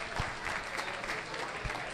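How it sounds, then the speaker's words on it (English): Audience applause at a wine and beer tasting, a short burst of steady clapping from a small crowd in a room, with a few sharper claps standing out near the start and end. "Give yourselves a round of applause."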